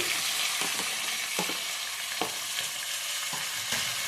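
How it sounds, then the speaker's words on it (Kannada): Tomatoes, an inch of ginger and a bulb of garlic fry together in oil over medium heat for a soya gravy, giving a quiet, continuous sizzle broken by a few soft stirring scrapes, with no voices. "ಮೀಡಿಯಮ್ ಇಟ್ಕೊಂಡು ಫ್ರೈ ಮಾಡ್ಕೊಳ್ಳಿ ಅದು ಫ್ರೈ ಆಗಬೇಕು"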